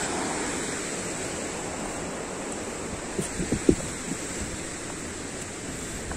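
The Nigong River near Zido village in Upper Siang, Arunachal Pradesh, rushes past in a steady broadband wash. A few soft knocks rise briefly near the middle, with no voices.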